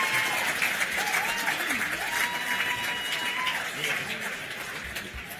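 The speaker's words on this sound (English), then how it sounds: "please a round of applause for these two" Applause and cheering from a crowd at a medal night ceremony, continuous clapping with voices talking and calling over it throughout.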